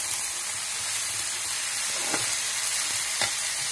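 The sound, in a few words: potatoes, garlic, green chilli and fenugreek frying in a pan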